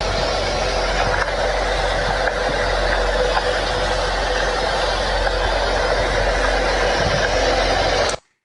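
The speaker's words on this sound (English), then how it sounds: "his car sounds, for all practical purposes, like a big diesel engine, a big rig truck" A steady, loud low rumble like a big diesel truck engine, coming from a police car idling, continuous and unchanging throughout before cutting off abruptly at the end.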